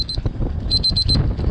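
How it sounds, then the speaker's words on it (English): A meat thermometer beeps outdoors while pork cooks, after reaching 200 degrees: a short pair of high electronic beeps, a pause, then a quick run of about five beeps, loud and close over wind noise. "I'm hearing the beep. That means it's hit 200."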